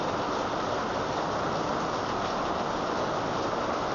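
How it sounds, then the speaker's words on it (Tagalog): Heavy rain from a typhoon pours down outside a house, a dense, constant roaring hiss with no let-up and no voices. "Malakas na ulan."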